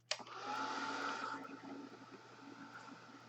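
Hair dryer blowing steadily on a damp ribbon, a loud even whoosh that starts abruptly and runs about a second and a half before easing into a softer, fading airflow.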